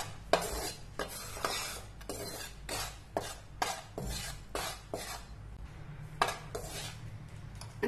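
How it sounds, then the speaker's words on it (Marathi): Wheat flour is stirred and roasted in a pan over a medium flame for sheera, with repeated rhythmic scraping strokes of a spoon against the metal and a soft background sizzle, close and without talk. "अगदीच गॅस मिडियम ठेवून आपल्याला व्यवस्थित भाजून घ्यायचंय"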